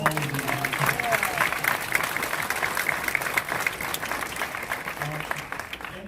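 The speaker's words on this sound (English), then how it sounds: "Let's have a round of applause for all of them." A theater audience at a New York cast event applauds the film's co-stars, dense clapping holding strong and steady the whole way through, with a faint murmur of voices underneath.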